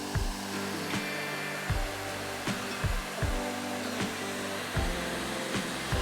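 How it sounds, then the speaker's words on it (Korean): A hair dryer blows hot air with a steady whooshing roar close by onto a laptop mainboard, its tone dipping and rising periodically as it is moved around. "이제 헤어드라이기로 메인보드에 뜨거운 바람을 불어주면 되는데"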